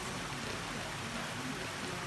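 Rain falls steadily on an outdoor thermal bath and pool on a cold day, a soft, even hiss of drops and water filling the air throughout without any voices.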